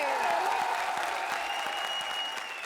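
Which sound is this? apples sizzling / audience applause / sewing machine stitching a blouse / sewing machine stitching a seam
audience applause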